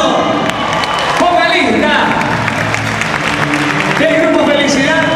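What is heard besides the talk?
audience applause at a band concert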